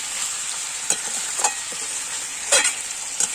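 Chicken for a dhonia chicken dish stir-fried in a pan, giving a steady close sizzle with a few sharper scraping stirs and no voices.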